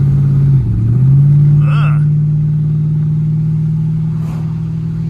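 A rare 1965 Chrysler 300L with a dual-quad 413 big block V8 idles with a steady, deep drone, dipping briefly as though blipped before settling, while people talk over it.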